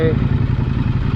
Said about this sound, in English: you can take off, no throttle, not chugging, and it'll happily idle there,